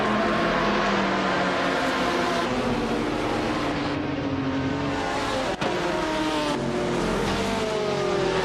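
Race cars starting a GT-class race in a video game, led by a 2004 Chrysler Viper GT SR: loud, continuous engine roar from several cars revving up through the gears, with a brief tire chirp partway through.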